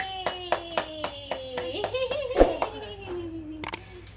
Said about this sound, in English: If you happy and you know you clap your hand.